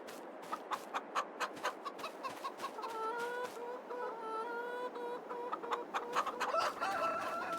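Several chickens cluck in quick, uneven bursts, close by, with a rising crow-like call threaded through the middle.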